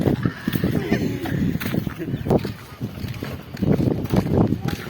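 Strong wind gusts during a heavy rainstorm in Safabagar, Achham, buffet the microphone with loud, low, uneven rumbling, while someone talks over it throughout.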